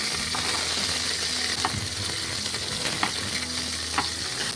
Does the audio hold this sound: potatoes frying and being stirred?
yes